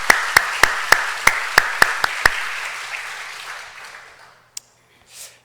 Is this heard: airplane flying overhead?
no